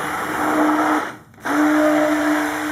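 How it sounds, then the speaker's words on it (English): Stick blender whirring steadily through cold process soap batter with kale, clay and colloidal oatmeal, a close, loud motor hum that dips briefly to near silence before starting up again. "So I will hit it with my stick blender."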